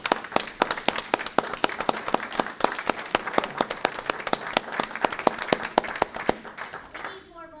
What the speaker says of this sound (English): let's stand up and give them a round of applause, please.